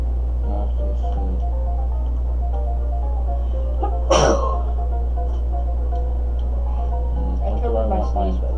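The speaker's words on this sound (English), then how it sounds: "I covered my sneeze, by the way." A single sharp human sneeze bursts out midway, brief and fairly close, over a steady low hum and faint background game music.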